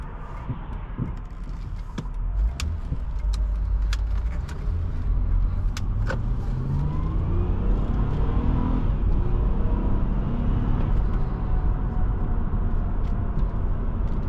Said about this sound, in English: Pretty standard Honda V6 sound.